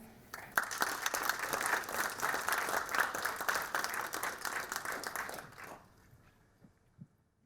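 Audience applause welcoming a speaker at a Dartmouth talk on Arctic leadership, a sustained roomful of clapping for about five seconds that then tapers off to a few scattered claps.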